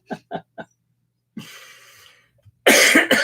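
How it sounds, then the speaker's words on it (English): Three short, sharp coughs in quick succession from a man in a workshop, followed by a rougher, drawn-out throat sound and a louder final burst of coughing, all close and with no talk. "Sorry for coughing in your face or your ears."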